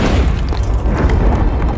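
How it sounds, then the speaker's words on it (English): An explosion shakes a city in the game Overwatch 2, a loud, sustained low rumbling boom that fills the whole moment with no voices over it. "an explosion shook the whole city"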